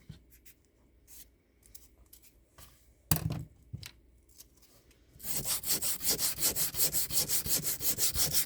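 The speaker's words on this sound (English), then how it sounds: "I am sanding it" Sanding a wooden desk art piece by hand: a quiet, scattered scratching at first, then a steady run of loud, rhythmic back-and-forth rasping strokes close up, with no talking.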